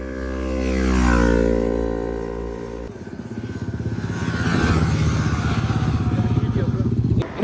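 A 300cc racing motorcycle screams past on a race track during a practice session, its engine note rising loud and close then dropping in pitch, followed by another bike's rough, pulsing engine building up nearby.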